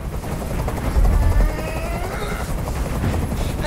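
Helicopter noise in the video game Detroit, a continuous rumbling, thudding drone with fast rotor pulsing at a steady level throughout.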